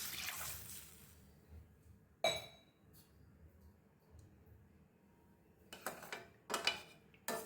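Water poured into a kadai while cooking rava kesari, short splashing bursts near the start with a few brief clinks and drips scattered across an otherwise quiet kitchen.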